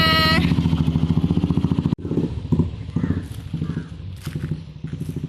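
A motorbike engine revs loudly up close, then pulls away with uneven bursts of throttle and some clattering.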